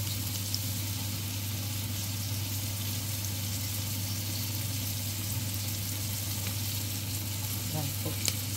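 Chopped onions frying in oil for chicken caldereta, a steady, dense sizzle that holds evenly throughout with a low constant hum beneath it and no talking.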